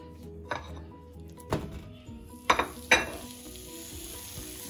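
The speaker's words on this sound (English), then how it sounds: "this is the sizzling sound that you wanna hear" Meat hisses and sizzles as it is dumped into a hot pot on the stove for a haystack meal. Several clanks and scrapes of a utensil against the pot stand out over the frying, which is soft and close, with no talk.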